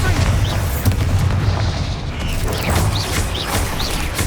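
A Bombarda explosion spell blasting in Hogwarts Legacy, a continuous rumbling boom with crashing debris that stays loud and dense throughout, with faint higher whooshes flickering over the roar.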